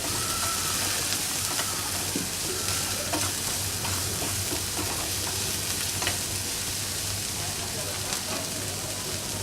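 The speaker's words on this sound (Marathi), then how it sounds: "याला थोडं परतत राहायचं आहे, नाहीतर तो करपल्यानंतर आपल्या मसाल्याचा रंग पण बदलतो आणि चवही बदलते।" Konkani-style chicken masala is stirred and sautéed in a pan. A loud, dense, steady sizzle runs throughout, with a few faint spatula scrapes and a low hum underneath.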